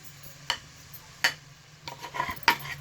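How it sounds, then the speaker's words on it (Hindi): Chopped onions go into half a cup of hot oil in a pan, giving a few sharp clinks of a utensil against the pan and a faint crackle of frying, all quiet and close, with no talking. "ये प्याज है मैंने काटी हुई, ये डाल देते हैं इसमें।"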